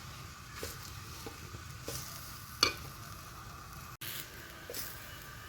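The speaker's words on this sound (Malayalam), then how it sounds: "ഇതൊന്ന് 5 മിനിറ്റ് കഴിഞ്ഞതിന് ശേഷം നമുക്ക് ഇതിലേക്ക് വറ്റൽമുളകും കൂടി ചേർത്ത് കൊടുക്കാം" Dried red chilies stir-roasting in a pan for chammanthi podi, with soft sizzling and intermittent spoon scrapes and stirs, quiet and close.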